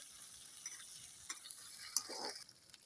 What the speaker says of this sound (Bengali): পেঁয়াজগুলো আমি হালকা একটু ভেজে আদা রসুন বাটা দিয়ে দিব। তেলের সাথে একটু ভাজবো